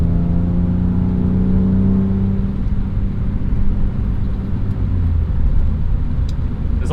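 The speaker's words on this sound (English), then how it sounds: "This also sounds way more mean with the various modifications he's done, the exhaust and such, the engine bay as well, the intake." A 1998 BMW M3 E36 with modified exhaust and intake accelerates, its engine note rising from a deep rumble into a steady, close, loud whirring drone with no talk over it.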